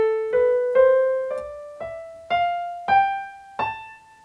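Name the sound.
natural minor scale played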